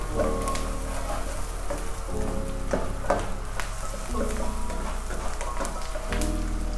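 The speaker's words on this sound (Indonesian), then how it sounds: "kita masak bawang bombaynya sampai agak layu" Onions fry in a pan for a spicy tofu dish, giving a steady, close sizzle with occasional stirring scrapes and no talking.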